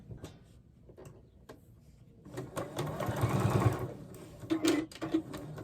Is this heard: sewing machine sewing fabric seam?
yes